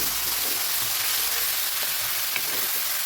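Continuous loud sizzling of about three-quarters of a kilogram of chicken frying in a hot pan, crackling steadily throughout.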